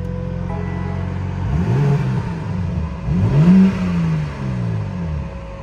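A BMW M240i with a stock exhaust revs twice while parked, each blip rising sharply then falling away over a steady idle, with light wind noise in the background.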